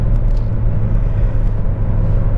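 Renault Captur engine pulling in third gear in city driving, a steady low drone and road rumble heard from inside the cabin with faint ticks and clicks over it.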